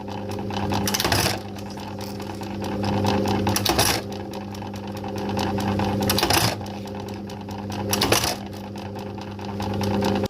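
An electric button-stitching machine runs with a steady mechanical hum and rapid repetitive stitching, broken every couple of seconds by a louder rattling burst of the stitching cycle, close and continuous, with no talking.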